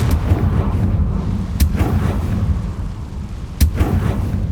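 The Confringo blasting spell goes off in Hogwarts Legacy with two heavy booming explosion hits over a dense rumbling game backdrop of low ambient noise, loud and punchy.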